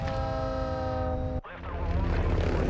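A Call of Duty train blares a sustained horn-like tone, then cuts off abruptly into rumbling rail noise, loud and close, with no talking.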